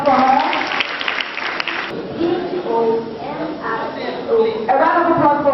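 Applause from an audience at a spelling bee rings out loudly for about two seconds, then fades beneath a host speaking over the hall's sound system.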